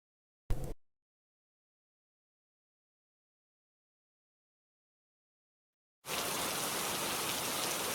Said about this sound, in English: Rain poured relentlessly, a ceaseless deluge that had persisted for days.